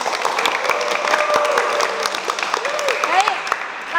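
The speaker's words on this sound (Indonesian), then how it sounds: "aplaus untuk kita semua hari ini" Applause from a group gathered for a gymnastics class session, a dense wash of clapping that runs steadily under a speaking voice for the whole few seconds.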